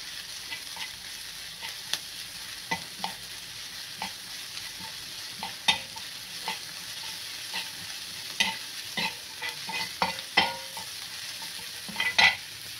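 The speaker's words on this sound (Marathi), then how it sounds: "आता हे चांगलं मिक्स करून घ्यायचं आहे आपल्याला." Soft sizzling of masala paste frying in a pan for egg tawa masala, with repeated scraping and tapping of a spoon stirring, irregular clinks growing more frequent toward the end.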